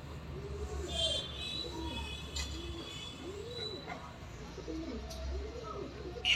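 A white Jira pigeon gives repeated soft, low coos at close range in a quiet indoor setting, with faint background hum and a voice talking under the calls.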